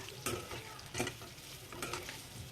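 Mango pieces with garlic being stir-fried in a pan: a faint, even sizzle beneath a few distinct scraping spatula strokes spaced across the moment, fairly quiet and close, no voices.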